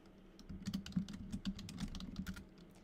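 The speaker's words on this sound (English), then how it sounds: "Let's keep typing." Rapid, uneven clatter of fingers typing on a computer keyboard, steady keystrokes at close range with no voices.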